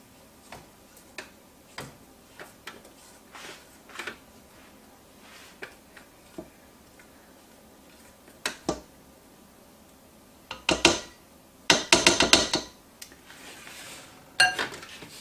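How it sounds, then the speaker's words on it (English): A spatula scraping butter down the sides of a mixing bowl for German chocolate cake batter, heard as light irregular ticks and clinks that grow into louder scraping clatters toward the end. "I'm just going to scrape down the sides so that I can get all that butter that is sitting on the sides and get it mixed in again"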